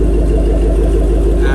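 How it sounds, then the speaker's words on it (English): A Ford Mustang's engine idles steadily after a rear axle assembly swap and oil change, a loud, close, even low rumble with no change in pitch. "Car's running, ready to go"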